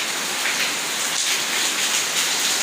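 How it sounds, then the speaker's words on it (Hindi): Very heavy, fast rain pours steadily at a home where water runs down the stairs and into the house, a dense unbroken hiss filling the whole stretch without any voices. "बारिश माशाल्लाह बहुत ज़बरदस्त और बहुत तेज़ हो रही है, बहुत तेज़ बारिश है।"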